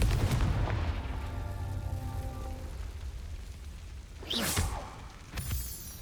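The Confringo fire-blast spell in Hogwarts Legacy bursts with a booming blast, followed by a short whooshing streak and a sharp crack near the end, loud and close with no talk.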